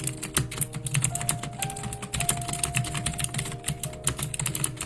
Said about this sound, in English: like relaxing keyboard clicking sound.